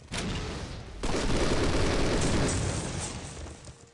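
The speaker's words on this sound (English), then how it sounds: "He just throws grenades, man." Loud grenade blasts in a video game, a sharp burst just after the start and a second heavier boom around one second that rolls on as a sustained rumble and debris.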